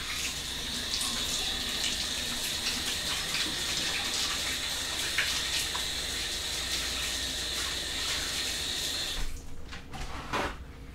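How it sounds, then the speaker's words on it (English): Tap water runs steadily into a kitchen sink during handwashing, a constant close hiss and splash that cuts off near the end and leaves a few faint clatters. "So first I'm gonna wash my hands before anything."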